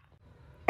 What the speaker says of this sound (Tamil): இருமல் டாக்டர்